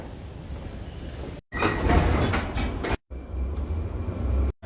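A subway train rumbles and clatters along the rails underground with a loud, steady roar, broken by two brief silent gaps.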